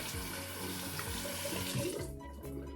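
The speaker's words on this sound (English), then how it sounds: "So I always wash my hands." Hands are rinsed under a running bathroom sink tap during an evening skincare routine, a steady close rush of flowing water that cuts off near the end, leaving a brief quieter patter.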